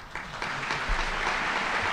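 An audience clapping after a lecture by Ilan Pappe, a steady, dense wash of many hands applauding throughout, with no voices.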